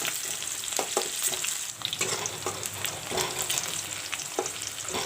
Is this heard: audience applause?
no